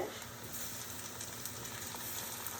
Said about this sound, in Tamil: அகத்திக்கீரை வெங்காயம் வதங்கிடுச்சு.